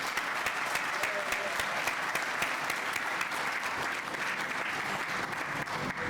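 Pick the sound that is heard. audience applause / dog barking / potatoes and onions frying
audience applause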